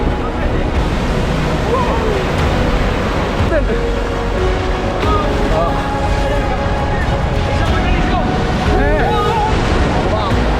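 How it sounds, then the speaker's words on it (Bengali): Large waves crash and roar continuously on the beach at Cox's Bazar on a day of strong current, loud and close, with wind buffeting the microphone and a broad wash of surf throughout. "আজকে অনেক ঢেউ আছে, এটা বিশাল বিশাল।"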